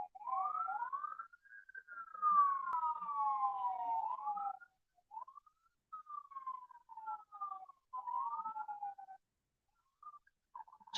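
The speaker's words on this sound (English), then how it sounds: "Can you hear the sirens?" Emergency sirens wail in the distance, rising and falling tones sweeping back and forth, fading in and out with brief gaps of quiet.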